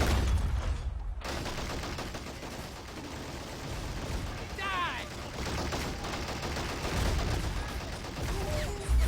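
Battle gunfire from the Men of War Assault Squad 2 real-time strategy game crackles continuously at a distance, with overlapping rifle and machine-gun bursts and occasional heavier thumps under a busy war soundscape.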